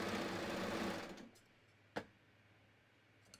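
A sewing machine chains off fabric at the end of a knit tee shirt seam, running loud and steady for about a second before stopping, followed by a single sharp click and near silence.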